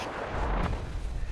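A nuclear blast strikes the Whitespring Resort in the PC game Fallout 76, a heavy, booming explosion that rumbles and rolls on in a deep sustained roar, with no talk over it.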